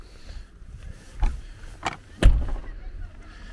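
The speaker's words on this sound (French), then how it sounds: "vous remarquerez aussi l'ouverture de la soute qui se fait différemment des autres soutes" A luggage hold door on an Irisbus Magelys coach opens with a few soft mechanical clunks and thuds spread over a few seconds, heard close by against quiet background noise.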